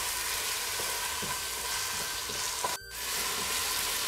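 Ginger garlic paste and yogurt sauté in a pan for a Tamil mutton kurma, a continuous close frying hiss with a brief dropout near the end and no talk.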